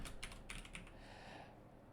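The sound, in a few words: typing on a new computer keyboard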